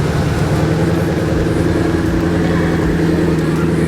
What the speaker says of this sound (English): The two V12s, those things sound absolutely incredible.